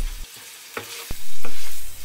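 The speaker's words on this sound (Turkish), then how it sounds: "400 ile 500 gram arası kıymayı koyduktan sonra sürekli karıştırarak kavuruyoruz." Roughly 400 to 500 grams of ground meat sizzles loudly in hot oil in a pan, with the sharp scrapes and clacks of a spoon stirring it and the frying swelling up after each stir.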